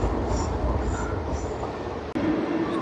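A train rumbles steadily along the tracks in Zurich, a loud, continuous rolling noise with faint squeals and one brief clank near the end.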